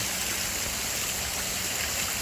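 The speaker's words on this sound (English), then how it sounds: "the creek, kind of, you can see it out that way, comes into another waterfall with some creek bed" A creek flows over rocks into a waterfall, giving a close, loud, constant rushing wash of water with no breaks and no voices.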